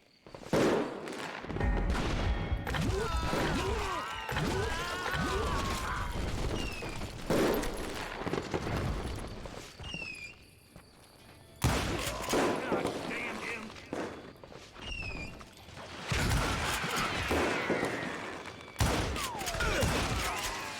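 Video game gunfire comes in dense, continuous bursts of shots and booms, loud and close, with a few brief pauses, mixed with a player talking throughout.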